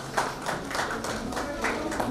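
Audience applause at a sustainability summit in New Delhi, heard as a brief spell of scattered, fairly light clapping in a hall.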